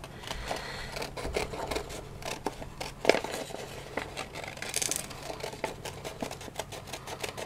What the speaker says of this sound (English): So I'm going to quickly cut that out using my Tim Holtz scissors.